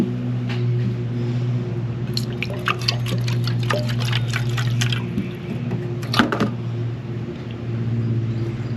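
Liquid that looks like turpentine sloshes and gurgles as it is poured out of a container, a steady wet trickle with irregular splashes and drips over a constant low hum.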